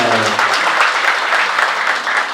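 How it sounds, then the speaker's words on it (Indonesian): Audience at a youth motivation gathering in a mosque applauding, a dense, steady burst of many hands clapping close by, with no speech over it. "Tepuk tangan untuk kita semua."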